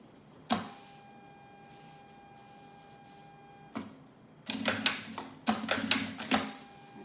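A sewing machine stitches a zipper lining, starting with a sharp clack and a quiet hum, then running in several quick rattling bursts of close, rapid stitching.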